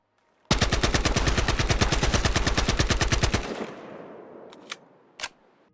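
Battlefield Hardline UMP9 submachine gun firing one sustained full-auto burst of rapid, evenly spaced loud shots for about three seconds, then a trailing echo and two faint later clicks or pops.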